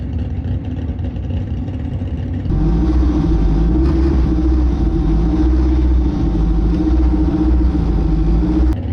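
An 800hp all-wheel-drive Honda Civic making a drag racing pass, its engine rumbling low before surging into a loud, sustained roar that holds to the end.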